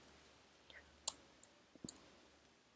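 Sparse, quiet computer mouse clicks at a desk, a few sharp isolated taps spread irregularly over a near-silent background.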